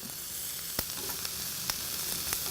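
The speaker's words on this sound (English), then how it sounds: "Remember to turn the squid over so they cook both sides." Squid grilling Balinese style, a dense, bright, steady sizzle hissing continuously up close, punctuated by a few sharp pops and crackles, with no one talking.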